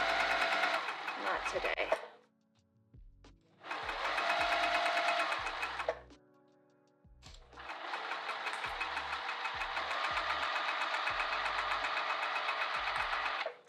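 A sewing machine runs long basting stitches with the stitch length turned up while sewing a handbag, in three sustained runs separated by short pauses, with a brief spoken remark between them.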